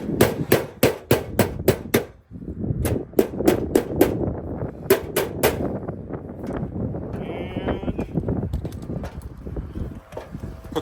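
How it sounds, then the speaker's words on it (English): A hammer strikes a metal gutter corner piece in rapid, close, sharp bursts, several quick blows at a time. Pauses and rustling handling noise fall between the bursts, with wind brushing the microphone. "Hammer this in."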